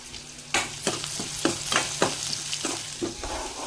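Onions and poha cooking in a pan for breakfast, a rhythmic series of spoon scrapes and stirs over a steady sizzle, close and fairly loud, about eight strokes in a few seconds.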